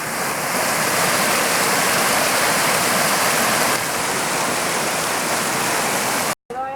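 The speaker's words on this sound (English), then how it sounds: "I just want to record the sound of this rushing water and play it on a loop back home" Loud, steady rush of mountain stream water pouring and churning nearby on a hiking trail, a dense continuous roar that cuts out briefly near the end.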